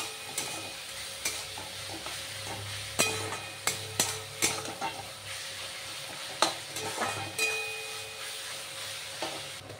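Ginger paste and garlic sizzle in a hot pan with lightly fried onion as a spoon stirs them, bringing repeated scraping knocks over a steady frying hiss. No one speaks.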